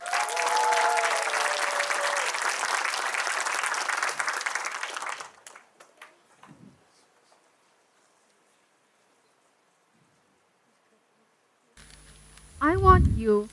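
An audience at a talk on bridging the gap in education gives a big round of applause, loud and sustained, then it fades to silence before a speaker begins talking.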